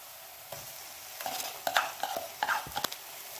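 Ginger garlic paste frying in a pan for an egg curry, after the onions and green chillies have softened: a faint sizzle with scattered stirring clicks and scrapes that grow busier toward the end, with no talk.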